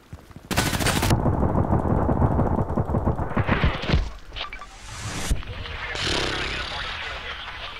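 Automatic gunfire from the online shooter Contract Wars comes in loud, rapid, sustained bursts with sharp cracks and a few pauses, while someone talks over the shooting.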